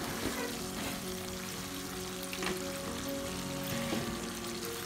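Chicken korma simmers in a pan after water has been added to the onions, giving a steady bubbling sizzle with light crackle throughout, close and continuous, with no talking.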